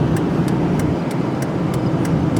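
A car cruising along a road at the foot of Colorado's Rocky Mountain front range, steady cabin and road rumble with a soft, regular ticking repeating about three times a second.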